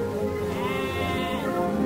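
A young goat meant for the qurban sacrifice gives one long, wavering, nasal bleat, close and clear, with no speech over it.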